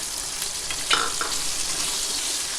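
Gunda (glueberry) and raw mango sambharo frying with cumin and green chillies in a pan, a steady close hiss of sizzling oil with one brief stir scrape near the start.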